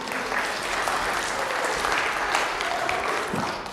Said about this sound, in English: Round of applause for Cooper.